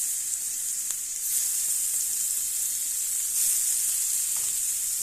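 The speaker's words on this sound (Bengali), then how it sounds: "মাছটা ফ্রাই করার জন্য দেখেন পরিমাণ মতো তেল দিয়ে নিতেছি, হালকা পরিমাণ তেল দিয়ে ভাজবো।" Fish frying in a little oil in a pan, a constant bright close sizzle with faint crackles and an occasional light tap, no voices.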